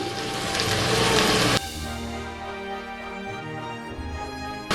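A short gush of water rinsing tamarind into a pan splashes and trickles loudly for about a second, then stops, leaving a quieter humming background.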